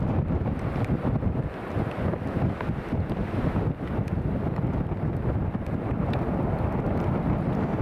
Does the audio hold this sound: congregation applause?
no